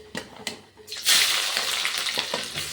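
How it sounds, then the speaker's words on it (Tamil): Onions dropped into hot oil for a vendakai okra sambar, a couple of soft knocks followed by a sudden loud burst of sizzling that continues close and steady. "இப்போ நம்ம வெங்காயத்தை மட்டும் சேர்த்துட்டு போகிறோம்"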